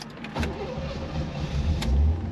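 A 1985 Corvette engine cranks and catches, settling into a low rumble that swells toward the end, fairly quiet and with no talking.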